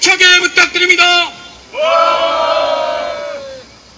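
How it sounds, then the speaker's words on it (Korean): A protest crowd in front of the Blue House (Cheong Wa Dae) in Seoul shouts and cheers in loud bursts of voices, then breaks into a long, sustained collective roar that fades. "격한 함성 힘차게 부탁드립니다."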